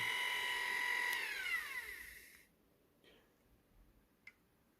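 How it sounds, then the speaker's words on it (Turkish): A 220-volt AC vacuum cleaner motor run on a 12-volt battery whirs steadily at high pitch, then winds down and stops, followed by a few faint clicks in near silence. "En az 12 voltluk bir pille böyle bir süpürge motoru çalıştırılabiliyor."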